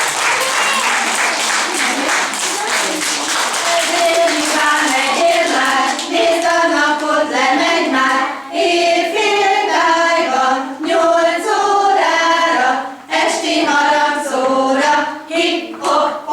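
A theatre audience at a Hungarian performance of Ludas Matyi applauds loudly and continuously, dense close clapping that swells and dips, with voices calling out over it.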